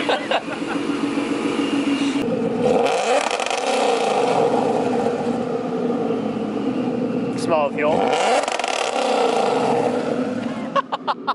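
A car engine fitted with an MSD 2-step roars and revs loudly in two rising surges, with people talking over it close by.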